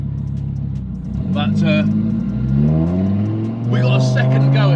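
A 1400bhp Audi TT RS engine fires up and revs hard, loud and close, its pitch climbing and falling through a couple of throttle blips while someone talks over it.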